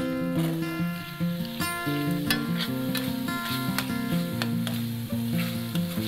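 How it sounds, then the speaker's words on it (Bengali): Chopped onion stir-fried with chicken in a pan, a steady sizzle running under loud, continuous melodic background music with a few sharp clinks of stirring. "এখন আমি এর মধ্যে দিয়ে দিচ্ছি পেঁয়াজ কুচি, চিকেনের সাথে ভালোভাবে আমি কষিয়ে নিচ্ছি।"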